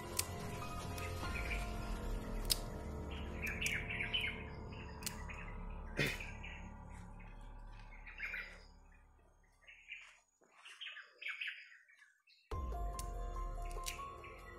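Birds chirp and call in short scattered bursts in a forest after heavy overnight rain, with clicks and drips mixed in, moderately near and fairly faint, briefly dropping to near silence before the ambience returns.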